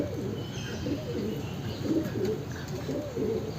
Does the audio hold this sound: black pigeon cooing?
yes